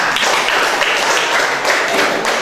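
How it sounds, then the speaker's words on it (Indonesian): Classroom students clap their hands together in a brief, dense, steady burst of applause, loud and close, with no talking over it. "Tepuk tangan."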